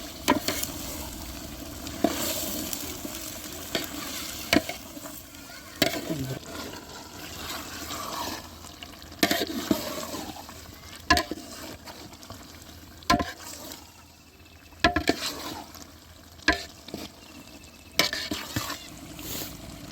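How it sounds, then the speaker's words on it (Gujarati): Okra sizzles and fries in a pan in a village kitchen, a steady hiss broken by repeated sharp scrapes and clatters of stirring, fairly close and moderately loud. "હવે ભીંડો આપણે બધો નાખી દઈએ. હવે એને આપણે ધીમે ધીમે હલાવી નાખશું."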